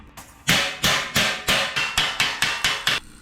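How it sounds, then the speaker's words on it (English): Metal body hammer pecking at a Toyota Tacoma truck roll pan being modified, nine sharp ringing strikes in a steady rhythm, close and loud with no talk. "start pecking at that thing with this body hammer"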